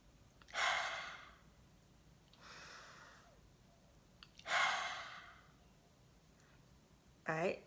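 Deep, audible breaths in a grounding breathing exercise, with the tongue placed at the roof of the mouth: a long inhale and exhale, a softer breath, then another long breath cycle and a final short, sharp intake, all close up.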